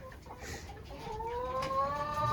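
Chickens inside a mobile coop on pasture let out soft, faint clucking, with one drawn-out, rising call near the end.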